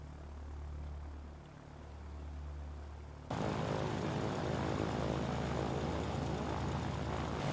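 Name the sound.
bomber aircraft engine, from video game Ground of Aces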